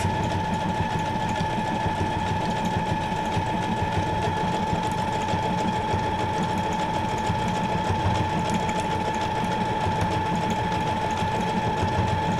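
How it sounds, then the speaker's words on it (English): A sewing machine hums continuously at a steady pace, its rapid needle ticking evenly throughout, near and unbroken by voices. "don't y'all just love the hum of the sewing machine?"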